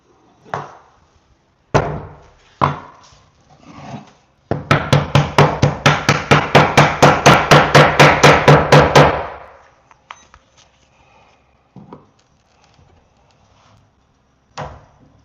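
A hammer strikes wood, first in a few scattered heavy blows, then in a rapid, even run of about twenty loud knocks, before trailing off into a few sparse, quieter taps.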